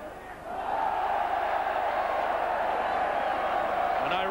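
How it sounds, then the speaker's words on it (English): Ironic cheer from a rugby league crowd in the stands at a Bradford versus St Helens match, swelling after half a second into a loud, sustained roar that holds steady to the end. "An ironic cheer from the crowd when Powell finally passed that football."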